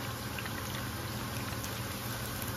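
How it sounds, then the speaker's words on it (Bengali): Samosas deep frying in hot oil: a steady, dense bubbling hiss that holds at an even level throughout, close and continuous with no breaks. "এই যে ভাজা হচ্ছে এখন সমোসা, মশমশা করে একটু লাল লাল করে ভেজে নেই"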